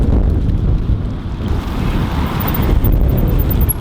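Strong wind buffets the microphone outdoors, a loud, continuous low rumble with gusty swells and no voices.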